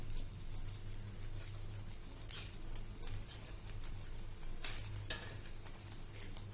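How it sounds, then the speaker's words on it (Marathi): A batter-dipped bread piece sizzles steadily in a frying pan, a continuous close hiss of frying with a few faint stirring scrapes, no voices. "व्यवस्थित डिप केलाय आणि पॅन मध्ये घालतीये"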